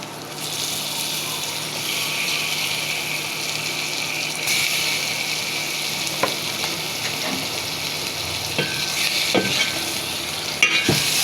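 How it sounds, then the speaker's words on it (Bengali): Hilsa fish fry in a pan with already browned onions, a continuous close sizzle with watery bubbling and a few sharp clinks of a spatula near the end. "এ পর্যায়ে ইলিশ মাছগুলো দিয়ে দিব। পেঁয়াজটা ভাজা হয়ে গিয়েছে।"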